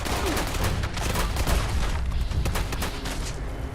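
Rapid, dense gunfire in the Fallout 76 video game, loud and continuous with overlapping shots and booms filling the whole stretch.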